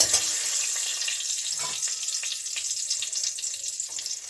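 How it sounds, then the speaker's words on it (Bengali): Bay leaves sizzle in hot oil as tempering for a radish ghonto, a steady close frying hiss with faint crackles throughout and no voices. "এমনিতে আমি তেজপাতা ফোড়ন নিচ্ছি"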